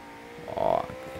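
A McLaren's engine revs briefly in Forza Horizon 3, a short rising tonal burst that swells mid-clip and drops away over quiet background noise.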